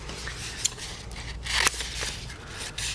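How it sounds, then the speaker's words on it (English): Scissors snip through folded paper for a paper Chinese dragon craft, with a few short crisp cuts and rustling paper handled close by. "Just going to cut a couple more."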